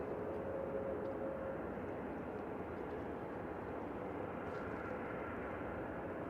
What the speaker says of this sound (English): It's a Logan Air that's just arriving from Newquay, Embraer ERJ145 EP.